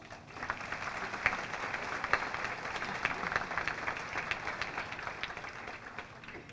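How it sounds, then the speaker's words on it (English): Sustained audience applause at a fundraising dinner, dense steady clapping from a large room with a few sharper claps standing out, moderately loud and continuous throughout without speech. "please, I ask you to give them a round of applause."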